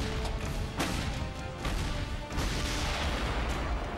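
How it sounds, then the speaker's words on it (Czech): Heavy M777 howitzer-style artillery fire booms in a dense, continuous barrage, with sharp blasts and crashes layered over a loud, sustained roar. "Správně, řeč je o dělostřelectvu."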